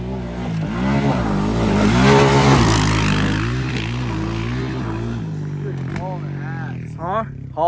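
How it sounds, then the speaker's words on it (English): A dirt bike engine on a backyard track revs hard against its rev limiter, a loud, close, sustained buzzing drone with stuttering pitch, while voices talk over it. "The rev limiter."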